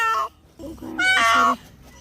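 Two drawn-out, strained meows from a cat injured by a vehicle, close by, with a brief quieter gap between them and faint background noise.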